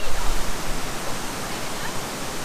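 Steady roaring wash of a waterfall in Brazil, close and loud, a dense unbroken rush of falling water with no voices.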